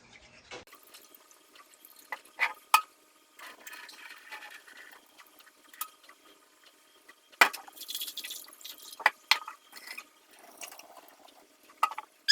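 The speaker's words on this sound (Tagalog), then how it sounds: "Ihuhugas po siya hanggang po hindi na po siya, parang hanggang makikita na po siya." Rice being washed in water before cooking, with intermittent splashes, trickles and drips from handling the grains, fairly quiet and close, with no talking.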